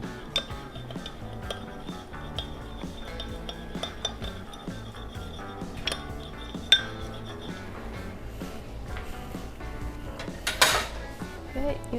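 Potatoes for Hasselback potatoes are mixed in a bowl, giving a run of close clinks and knocks of utensil against dish at an irregular pace, with a few sharper taps along the way.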